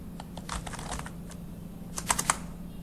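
Computer keyboard typing while entering a PHP database update query, a close run of light irregular key clicks with a few sharper taps near the end.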